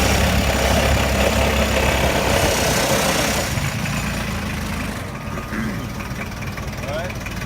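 A forklift engine drones steadily and loudly at a low to mid pitch as the forklift pulls forward, easing off slightly toward the end.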